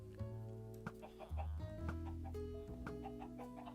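Chickens cluck in the Minecraft survival game, several short bird calls repeating close by over a steady backdrop of tonal game sounds.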